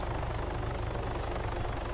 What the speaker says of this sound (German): Jetzt kommt doch noch ein Heli.